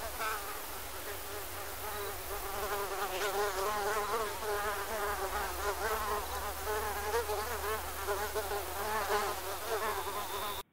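Dense buzzing of a mosquito swarm on the Pacific Crest Trail beyond Elk Lake, a continuous wavering insect whine close by, steady and loud for the whole stretch with no voices.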